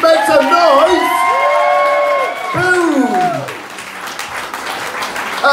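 Audience applause and cheering at a rock school show, with whoops and shouts rising over steady clapping. Tonal sweeps cut through the crowd noise, which dips briefly before the clapping carries on.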